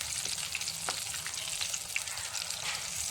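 Jackfruit-stuffed sweet fritters fry in a modest amount of oil, a soft continuous crackling sizzle with occasional small pops, close and fairly quiet, no voices.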